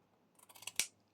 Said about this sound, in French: Là, je coupe un peu.